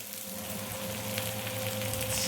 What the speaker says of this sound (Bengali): ভাজা ভাজা হয়ে এসছে পেঁয়াজ, ক্যাপসিকাম